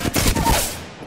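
Rapid video game gunfire in a ranked match, a dense burst of several sharp shots in quick succession, loud and close, fading into a short decaying tail.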